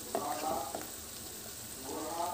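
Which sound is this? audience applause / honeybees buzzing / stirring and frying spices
stirring and frying spices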